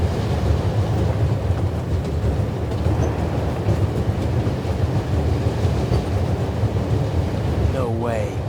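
Steady low rumble and rattle of a train rolling along the tracks in The Raven Remastered, loud and continuous throughout, with no talk over it.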